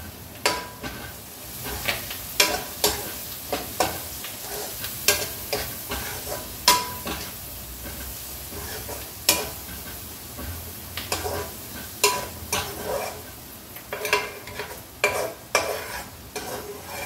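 Garlic is tempered in hot oil, giving a continuous close sizzle broken by frequent sharp scrapes and clacks of a spoon stirring against the pan.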